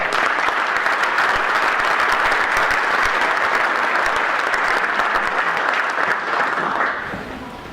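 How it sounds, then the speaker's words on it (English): Sustained applause from a large crowd at a golf association's annual awards meeting, dense and steady clapping that fades out toward the end. "Give those folks a round of applause."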